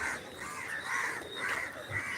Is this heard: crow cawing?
yes